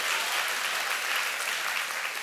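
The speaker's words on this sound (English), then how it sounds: "Come on, clap for your neighbor" Congregation clapping steadily during a church service, a dense, continuous wash of hand claps filling the room at even loudness throughout with no pause.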